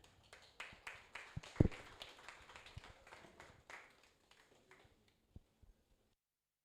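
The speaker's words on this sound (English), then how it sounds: "So a round of applause as he comes on board." Sparse applause from a small meetup audience, scattered individual claps that start loosely, peak briefly, then thin out to a few isolated claps before falling silent.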